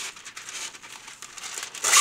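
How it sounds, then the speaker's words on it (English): Thin parchment paper is crinkled and handled close up, a rustling series of crackles that swells into a loud crumple at the end. "I'm just going to grab some parchment paper because this stuff is very thin."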